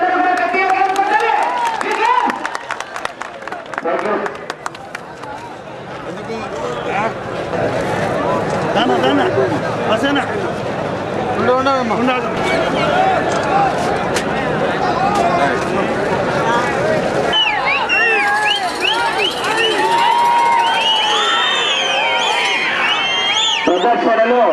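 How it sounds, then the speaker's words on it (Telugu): Large crowd of farmers at a senior-category bull pulling show in Mahanandi, a continuous loud roar of shouting, cheering and babble, with claps and some hoof-like clatter mixed in throughout. "రైతు సోదరులందరూ కూడా గట్టిగా కేకలు"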